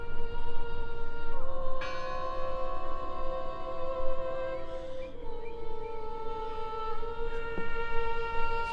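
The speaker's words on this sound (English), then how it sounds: "I heard the bell." A bell tolls inside a building in the Draugen video game, a sustained ringing tone with long, layered overtones that swell again near the middle and hum on with no voices over it.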